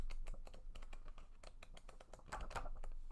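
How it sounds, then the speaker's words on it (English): Thick book pages of fine paper stock flipped through in quick succession, a rapid run of crisp, papery rustles and snaps close to the microphone, steady and continuous throughout. "like, thick book pages on nice paper stock being flipped through"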